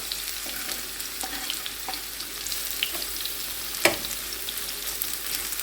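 Chopped onion fries in hot oil in a frying pan, a steady close sizzle with scattered crackles and one brief louder clatter of stirring, without any talking.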